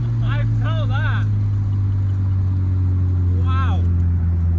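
Car engine drones steadily at a loud, constant level while the driver works paddle-shift gears, with brief excited voices talking over the powerful hum.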